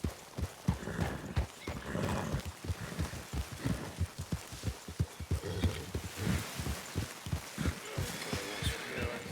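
Horses trot with steady clip-clop hoofbeats and an occasional whinny in a Red Dead roleplay game, loud and continuous throughout, with a little background chatter mixed in.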